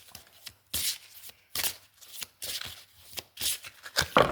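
Playing cards in a reading being handled and gathered, a series of close, crisp riffling and slapping bursts in an uneven rhythm, with quiet gaps between them and no talking.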